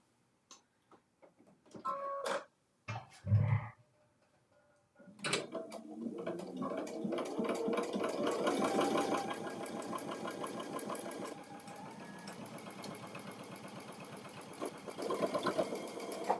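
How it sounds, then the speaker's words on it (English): A sewing machine stitches a circle, running in a fast, steady rhythmic chatter for about eleven seconds after a few scattered clicks and thumps of setup. "let me just sew this one more time."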